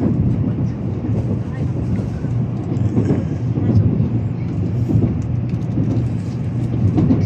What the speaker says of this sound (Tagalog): Nandito tayo ngayon guys sa may bullet train or Shinkansen ng